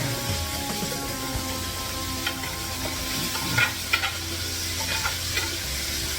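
Onions frying in rendered fat while being stirred in a pan for rabbit stew, a continuous close sizzle with soft scraping movements and occasional small pops throughout, and no talking.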